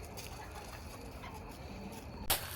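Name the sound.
hens clucking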